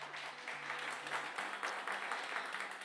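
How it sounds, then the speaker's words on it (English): A live audience at the WDVX Blue Plate Special applauds Troy Castellano, steady hand clapping rolling on evenly for a few seconds over a low electrical hum. "how about one more round of applause for Troy Castellano here?"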